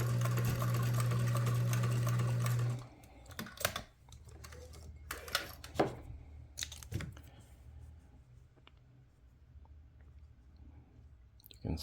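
A Singer 328K sewing machine stitches at a steady fast hum for a few seconds, then stops; afterwards only scattered clicks and handling noises are heard at low level.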